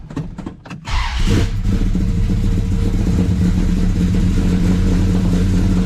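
A 1968 Dodge Charger engine, its carburetor bowls primed, cranks with a few sharp bursts, then catches and settles into a loud, steady rumbling idle with a slight rev, close by and with no talk over it.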